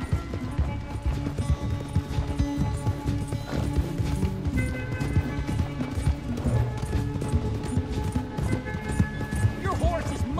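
A horse galloping in Red Dead Redemption 2, rapid rhythmic hoofbeats running steadily under in-game character dialogue and a music score throughout.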